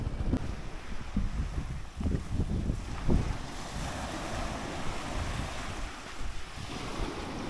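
Sea waves wash onto a beach in a steady, loud roar mixed with heavy wind buffeting the microphone, with no talk.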